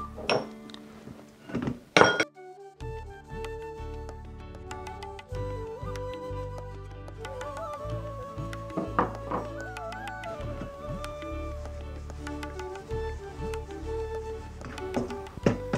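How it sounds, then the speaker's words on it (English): A spoon stirs several dry flours as they roast in a pan for instant thalipeeth flour. Soft scraping comes with occasional clinks and knocks of the utensil against the pan, sharpest near the start. "So I'll be mixing all these flours together."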